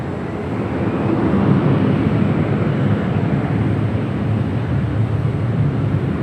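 An airplane takes off at Los Angeles International Airport, a steady, loud, broadband engine roar that holds constant throughout.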